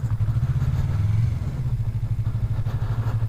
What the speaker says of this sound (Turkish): Girebilirsem motorla girek.